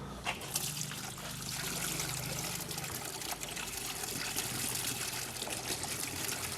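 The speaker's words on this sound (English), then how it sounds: "So currently we are only draining the radiator." Coolant drains from the radiator of a 2005 Subaru Forester in a steady, continuous trickle and splash of liquid, a constant watery hiss with faint drips, close by.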